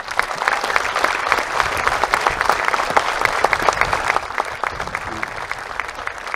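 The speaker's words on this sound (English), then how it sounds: "join me in a round of applause there for our troops and band" An outdoor ceremony crowd applauds troops and a band standing in the sun, a sustained, dense patter of clapping with some voices mixed in, steady and moderately loud before easing slightly toward the end.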